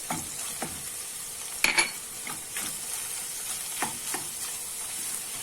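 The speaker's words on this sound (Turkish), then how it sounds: "Salçamı şöyle kokusu çıkana kadar kavuracağım" Tomato paste and peppers are sautéed in a pan, a soft steady sizzle with scattered spoon scrapes and one sharper clink against the metal, close but quiet, no talking.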